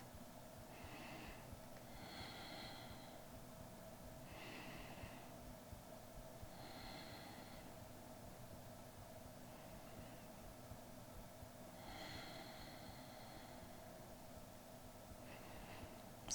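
Slow, deep yoga breaths drawn and released through the nose while holding a twist, a series of soft, airy inhales and exhales spaced a few seconds apart, quiet and close over a faint hum.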